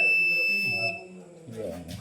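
A solar inverter emits a sustained high electronic beep for about a second when switched on, followed by indoor voices talking.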